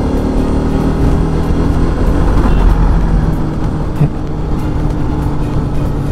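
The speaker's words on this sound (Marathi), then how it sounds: "पुढे लाईनिंग गाडीचे लाईन लागलीच आहे कंटिन्यू. एक गाडी क्रॉस नाही केली की दुसरी गाडी भेटतेच." Steady road traffic rumbles past during a motorcycle ride from Pune toward Ratnagiri in the Konkan, a continuous loud low drone of engines and wind with a faint passing vehicle sound near the end.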